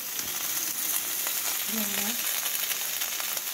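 Spices, salt, turmeric and grated ginger frying and being stirred in a pan for a potato curry, a steady loud sizzle with a brief scraping stir in the middle.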